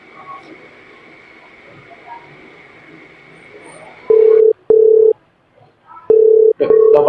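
A phone dials out and then sounds ringback, several loud, steady tone bursts separated by short gaps, coming after a stretch of quiet room noise.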